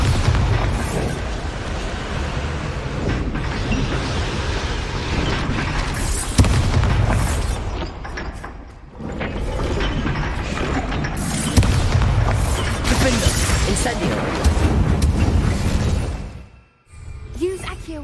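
A Bombarda blasting spell in the video game Hogwarts Legacy, loud booming explosions and crashing debris amid battle noise, with characters shouting and talking throughout.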